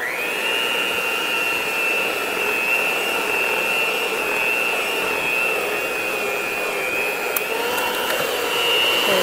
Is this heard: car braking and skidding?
no